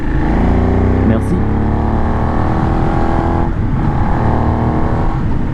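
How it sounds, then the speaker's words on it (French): Benelli 752S motorcycle engine and exhaust while riding, a loud steady droning roar with a dry, crisp supermoto-like bark, continuous throughout with wind rush. "Ça fait un peu un bruit de supermoto. Ce petit bruit sec là."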